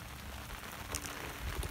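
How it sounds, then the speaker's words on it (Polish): Rain drums on an umbrella beside a lake in autumn, a dense close patter of drops with a few heavier taps, falling steadily and growing harder. "Jak na razie pada coraz mocniej"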